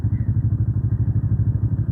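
Motorcycle idling along in first gear at about 1,300 rpm with the clutch and throttle released, a close, even, rapid thumping engine pulse that stays steady throughout.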